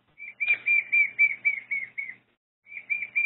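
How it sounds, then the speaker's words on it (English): A bird sound effect played back in computer software: a bright run of quick, evenly spaced whistling chirps, then a brief silence and a few more chirps, clean and alone. "I've got a bird sound that I could drag out and put on my page"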